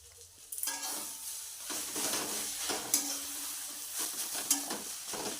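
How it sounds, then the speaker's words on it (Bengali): Taro leaves being stirred and mashed in a cooking pan, with soft scraping and squelching strokes repeating over a steady sizzle, fairly close and moderately quiet. "এইভাবে পাতাগুলো একটু ঘেটে ঘেটে দিতে হবে"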